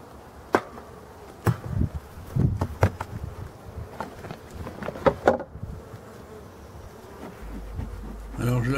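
Black bees of Brittany buzzing around a Voirnot hive in a forest during a spring inspection, a steady close hum of many insects with scattered sharp knocks and clicks from handling the hive.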